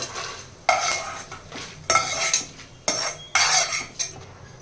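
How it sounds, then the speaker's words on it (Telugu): Coriander seeds and dry red chillies roasting in oil in a kadai, with a spoon stirring and scraping in four distinct bursts over a steady low sizzle, close and moderately loud, with no talking. "రెండు స్పూన్లు ధనియాలు వేయాలి అలాగే ఒక పదిహేను ఎండుమిరపకాయల వరకు తీసుకున్నానండి ఇవన్నీ చక్కగా వేగించాలి"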